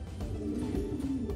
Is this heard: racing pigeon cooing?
yes